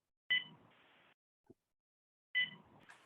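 At a candidate forum, two sharp electronic beeps sound about two seconds apart, each followed by a brief fading hum, with near silence in between.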